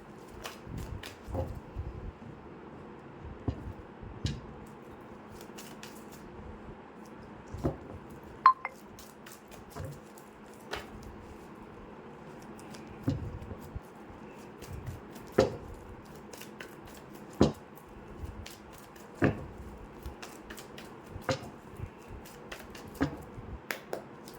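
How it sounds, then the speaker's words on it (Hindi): Tarot cards shuffled by hand during a Sagittarius reading, giving a steady run of soft papery riffles and sharp flicking snaps at close range over a faint background hum, with no talking. "मैं तब तक कार्ड शफल कर लेती हूँ"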